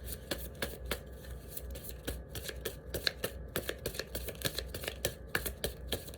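Tarot cards are shuffled for a reading, giving a steady run of crisp, close riffling slaps and flicks at a quick, irregular rhythm throughout, with no voice over them.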